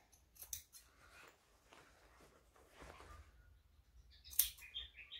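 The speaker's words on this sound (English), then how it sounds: "So I'm just cutting out the excess fabric in a V shape." Scissors snip through fabric, cutting excess away in a V shape on a hexagon bag, several quiet, close cuts spaced apart, ending with a sharper, brighter snip.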